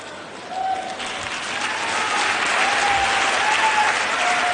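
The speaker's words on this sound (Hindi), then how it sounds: "ताली बजा रहे हो, इसका मतलब सहमत हो," Audience applause in a lecture hall, a dense, loud wave of clapping that swells and holds steady, with a few faint whistles or cheers over it.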